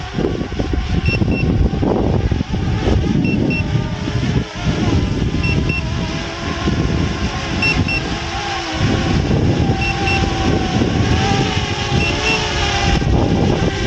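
Hubsan Ace SE Refined drone motors whirring at dawn, a loud, continuous buzzing with shifting pitch and brief dips over about fourteen seconds, heard close with no speech.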